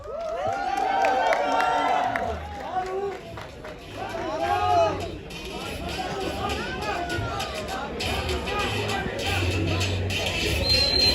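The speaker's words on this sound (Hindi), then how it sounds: "उसके लिए तालियां बजानी जरूरी है, उसके लिए आवाज और शोर करना जरूरी है।" A crowd at a film trailer launch event cheers and claps, with excited shouts and chatter rising over scattered applause, loud and close throughout.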